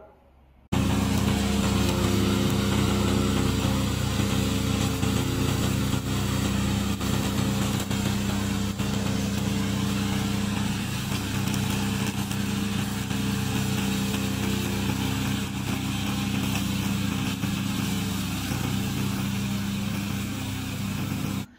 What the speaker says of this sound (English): This is our remote controller mower.